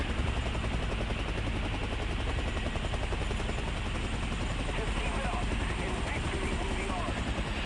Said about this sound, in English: Bradley, please move your helicopter